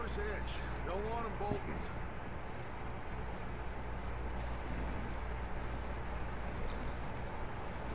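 Horse hooves clip-clop at a walk in Red Dead Redemption 2, a steady soft rhythm under constant ambient game noise, with a brief bird-like chirp early on.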